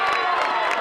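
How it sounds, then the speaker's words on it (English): Football crowd at a high school senior-night game between Kearsarge and Interlakes cheering a first-down run, a dense, steady roar of voices with whoops and scattered clapping throughout the short burst. "And the crowd loving it."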